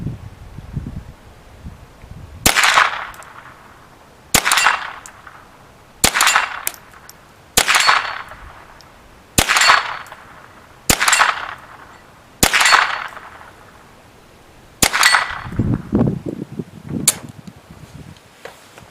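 A Henry AR-7 US Survival Rifle fires CCI Mini Mag .22 rounds outdoors, eight sharp cracks spaced a couple of seconds apart, each trailing off in a short echo.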